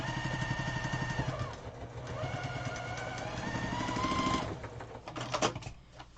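A sewing machine quilts a fabric square in a steady, fast mechanical whir with rapid stitching pulses. It slows and shifts pitch before a short burst of clattering near the end, and no one speaks.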